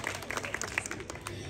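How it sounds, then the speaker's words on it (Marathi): Audience applause for Rupali during a Home Minister society event at Epic Society, Wagholi: a scattered, moderately quiet patter of claps with crowd murmur that keeps going for the whole moment. "टाळ्या वाजवा रुपाली वहिनीसाठी"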